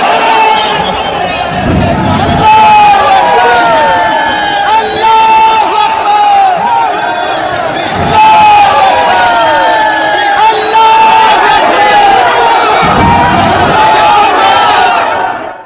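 A huge crowd gathered for the Babri foundation laying in Bengal shouts and chants loudly, with many overlapping voices forming a thick, continuous wall of yelling and whoops close by.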